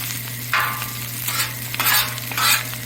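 Food frying on a Blackstone griddle, a constant close sizzle broken by several short bursts of spatula scraping and stirring.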